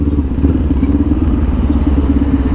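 Kawasaki Ninja 400 fitted with a LeoVince LV-10 exhaust idling close by: a loud, steady, throbbing burble with a fast, even pulse and no talk.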